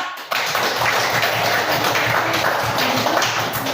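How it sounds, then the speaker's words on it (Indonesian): A classroom of students claps for a presenting group, a loud, close, steady patter of hands that starts abruptly and carries on evenly for a few seconds. "Oke, tepuk tangan untuk kelompok 4."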